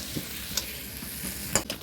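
Onions and garlic paste fry in a pan with a steady, moderately quiet sizzle, broken by a few soft clicks of stirring and no voices.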